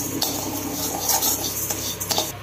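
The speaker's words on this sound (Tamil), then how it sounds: "அரிசி போட்டுடலாம்." Dry rice tipped into a pan for dry roasting while making porul vilanga urundai, giving a continuous gritty scraping and rustling of grains against metal, near and steady for a couple of seconds with no talking.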